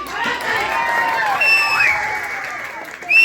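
An audience at an Odia jatra comedy performance in a temple courtyard gives loud, dense clapping and cheering, with whistles and shouts, swelling at the end.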